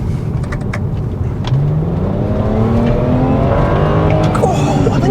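A modified BMW 335i engine pulls hard under acceleration, its loud, close drone rising steadily in pitch through a single gear with a whooshing intake note and faint road roar beneath.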